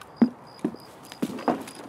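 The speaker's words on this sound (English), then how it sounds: "Heard a footstep." Footsteps in Escape from Tarkov: four soft, muffled thuds spread unevenly over a couple of seconds, fairly quiet against a near-silent background.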